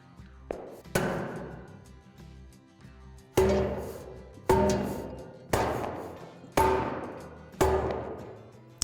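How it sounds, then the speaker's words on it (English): The poles of a Lifetime Power Lift portable basketball system are struck end-first onto scrap wood about six times, each blow a loud hollow metallic thud with a short ringing decay, spaced roughly a second apart. "You're going to seat the poles together by striking each end on a piece of scrap wood or cardboard 5 or 6 times."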